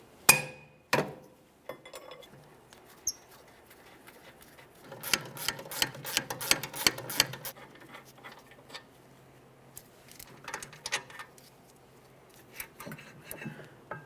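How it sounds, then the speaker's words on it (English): Metal tool work on a 2009-2014 Nissan Maxima rear brake caliper mounting bolt during a wheel bearing and hub replacement: scattered clinks and taps, then a quick rattling burst of ratchet-like clicks, close and fairly quiet. "we should be able to shift this around enough that we can remove that last mounting bolt"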